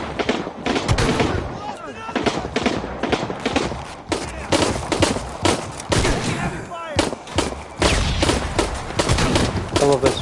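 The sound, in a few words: shotgun firing in video game Shadow of the Tomb Raider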